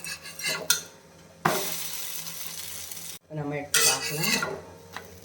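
A dosa made from ration boiled rice fries with sesame oil on a hot pan, a bright close sizzle that swells in bursts, with utensil clinks and scraping as it is turned and a voice talking briefly.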